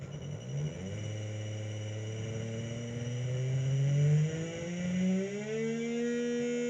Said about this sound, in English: Also the car engine sound seems fine.